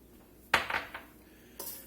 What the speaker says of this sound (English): Let's get this mixed up here real nice.